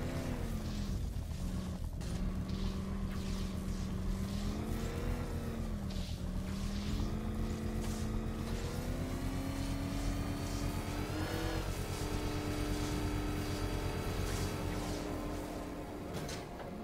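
The Batmobile's engine in Batman: Arkham Knight revs steadily toward the red line, a loud sustained mechanical drone whose pitch climbs gradually in waves with brief dips, heard alone without talk.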